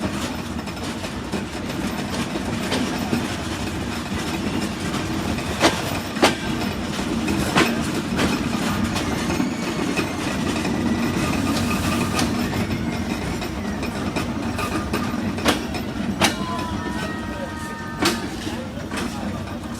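The Kapotaksha Express rolls into Jessore Junction station in the evening, with a steady rumble of carriages and rhythmic clickety-clack over the rails, plus intermittent sharp clanks and faint voices in the background.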